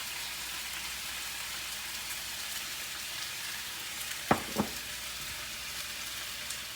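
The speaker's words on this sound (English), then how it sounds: "We're going to let that chicken start cooking and get a golden brown." Chicken frying in a pan, browning toward golden, gives a steady soft sizzle with two brief sharp clicks midway, alone with no talk.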